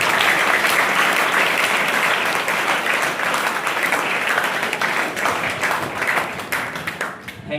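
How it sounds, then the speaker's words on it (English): Sustained applause from an audience at a school elocution competition, a dense, steady wash of many hands clapping that stays loud throughout and thins slightly near the end. "Let's give a big clap for all the three judges."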